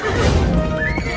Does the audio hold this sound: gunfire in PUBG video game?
no